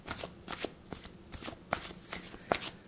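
Tarot cards being shuffled by hand at close range: soft, quiet riffling and slapping in quick bursts, roughly a dozen light flicks in under three seconds, with no voice over them.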